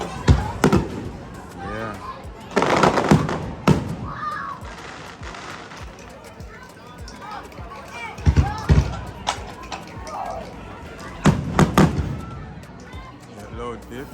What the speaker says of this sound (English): And they have fireworks.